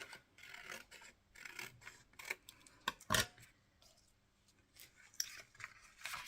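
Scissors snip through a paper journaling card in a few short, crisp cuts with quiet rustling and handling between them, close and fairly soft.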